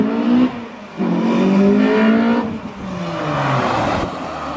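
A Honda CRX Si with a Type R engine swap roars and revs, loud intake rising and falling in pitch as the throttle opens and closes, with a steady mechanical whir throughout.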